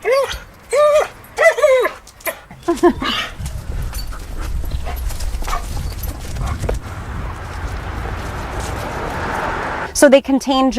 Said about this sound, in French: Leslie emmène Steve, son jeune chien-loup de 4 mois, et Touyi, une femelle de 2 ans, en promenad